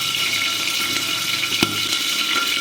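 Whole green chilies hitting hot oil in a pan while cooking moong dal khichdi give a steady close sizzle and hiss, with one sharp spatter pop midway and no voices.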